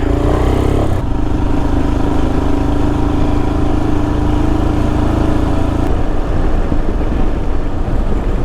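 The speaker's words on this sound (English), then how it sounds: "having a little pootle around on the bike" A motorcycle ridden along a country road, its engine a loud, steady, close drone with heavy wind rumble throughout, shifting in tone partway through as the rider changes pace, with no talk.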